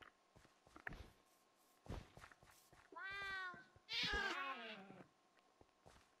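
A cat meows twice in the video game Minerware, drawn-out, fairly clear calls standing out among scattered soft footstep-like thumps and clicks.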